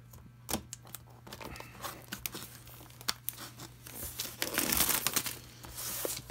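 Cellophane wrapping is torn and crinkled off an Atari XM301 modem box, close by and fairly quiet, with sharp crackles and rips that grow denser toward the end.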